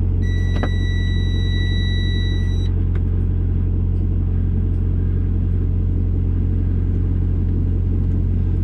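A semi truck engine rumbles at a steady, loud, low idle at an Interstate 84 rest area near Baker City, Oregon, with a brief chime near the start and no talking.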